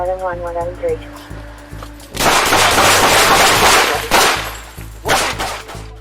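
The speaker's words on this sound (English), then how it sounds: "A police shootout erupts in California." Gunfire in a California police shootout cracks out in rapid, dense volleys after a shouted voice, bursts of sharp shots overlapping loudly with sirens or alarms and raised voices.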